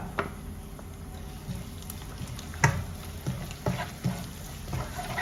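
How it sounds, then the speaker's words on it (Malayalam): Onions sauté in butter for homemade butter chicken, giving a soft, steady sizzle dotted with scattered pops and crackles, with no one talking. "അപ്പോൾ ആ ഉള്ളി അതിൽ വഴറ്റട്ടെ കേട്ടോ"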